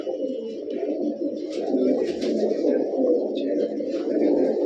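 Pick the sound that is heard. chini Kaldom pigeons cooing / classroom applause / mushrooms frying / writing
chini Kaldom pigeons cooing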